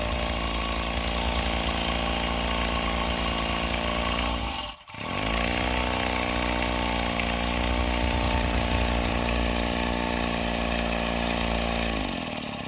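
Rocking Whale RW-BL1K steam engine kit running on live steam with its burner lit gives a steady mechanical hum and rapid chuffing drone that dips briefly midway, then resumes evenly and loud without any talk.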